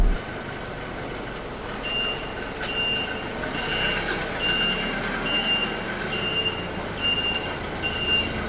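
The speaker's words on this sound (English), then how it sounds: "we're going to actually use the skid loader, carry it to him" A skid loader working on a muddy farm, its reversing alarm giving a steady series of high beeps over a low engine rumble, some clanks and a sharp knock early on.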